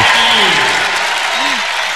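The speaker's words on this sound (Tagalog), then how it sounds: "And the crowd goes wild!" A volleyball crowd roars with applause and cheering, a dense, loud wall of clapping and shouts, while a voice talks over the noise.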